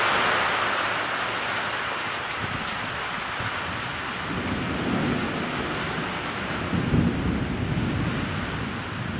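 Severe thunderstorm microburst with very heavy rain and damaging winds, a dense steady roar of downpour broken by low rumbling thunder swells, heard without voices.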